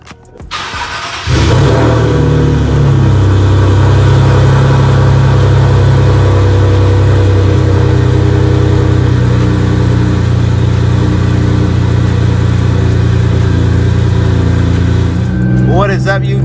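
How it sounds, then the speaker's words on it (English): Turbocharged Infiniti G37 cold start: the starter cranks briefly, then the engine catches with a loud flare and settles into a steady, deep, rumbling high idle that holds for the rest of the clip. "Give you guys a good little cold start"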